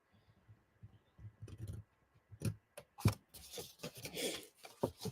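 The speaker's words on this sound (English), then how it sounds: "I'm just going to trim it with my scissors." Scissors snip through a handmade paper birthday card, a scattered run of soft crisp cuts and small clicks, close and quiet, with gaps between the bursts of trimming.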